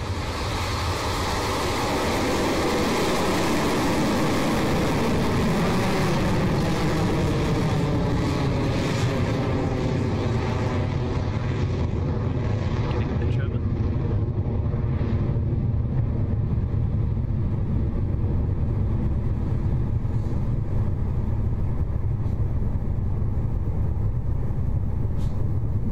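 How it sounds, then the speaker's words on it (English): Rocket Lab Electron two-stage rocket lifting off from Launch Complex 1 in New Zealand: a sustained, loud broadband roar and rumble that holds steady throughout, slowly losing its high edge as the vehicle climbs away. "Liftoff."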